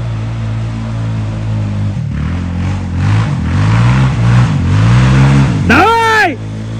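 An ATV or dirt bike engine on a ride near Veliko Tarnovo, Bulgaria revs up and down close by as the rider opens the throttle. The pitch swings repeatedly before a sharp high rev near the end, with shouting mixed in.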